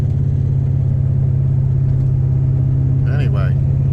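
Engine of a 1972 Pontiac LeMans drag car rumbling steadily and loudly up close, a constant low drone with a brief higher-pitched shift-like change near the end.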